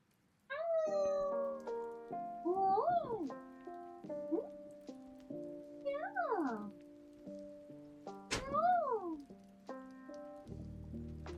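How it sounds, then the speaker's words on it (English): An attention-seeking house cat meows repeatedly up close, long rising and falling cries roughly every one to two seconds, loud and clear against a quiet room. "we're back to the cat wanting attention, obviously"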